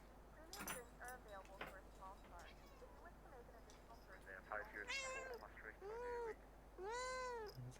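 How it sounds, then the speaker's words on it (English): A cat meows several times, drawn-out and rising, fairly close, with quiet clicks and background hum around it. "There's a cat."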